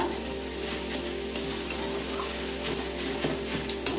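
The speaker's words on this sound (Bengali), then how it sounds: "দেখো বন্ধুরা, নাড়তে নাড়তে কতটুকু হয়ে এসেছে গাজরটা।" Steady soft sizzling of grated carrot halwa being stirred in a hot pan, a continuous close frying hiss with faint scraping and no voices.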